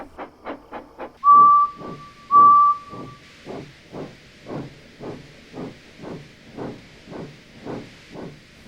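Steam engine Edward puffing steadily in a regular chuffing rhythm, with two sharp whistle blasts near the start and a continuous hiss of steam beneath the puffs, close and fairly loud.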